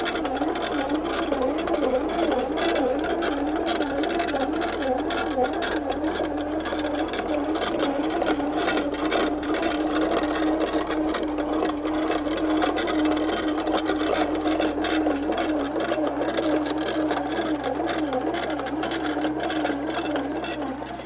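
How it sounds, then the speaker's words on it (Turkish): An Arçelik bread maker, fitted with a replacement drive belt, runs steadily with a continuous mechanical whir and a rhythmic kneading pulse that stays loud and constant throughout, with no talk over it. "Gördüğünüz gibi sağlıklı şekilde ekmeğimizi yapmaya başladı."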